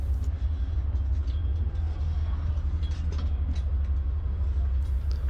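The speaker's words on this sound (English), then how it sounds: "This Amtrak train is called the California Zephyr" Amtrak California Zephyr passenger train riding along the rails, a steady heavy low rumble with faint rattles and creaks throughout, continuous and fairly loud with no talk.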